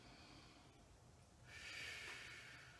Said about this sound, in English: Exhale fully.